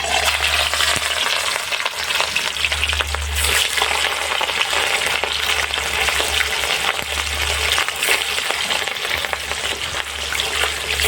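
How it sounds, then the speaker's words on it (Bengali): Fish lightly frying in hot oil for a Bengali khir katla dish, a dense, steady sizzle with crackling spatters and a low hum underneath, close and continuous with no voices. "তো আমার তেল গরম হয়ে গেছে, তো আমি মাছটা হালকা ভাজে নেব"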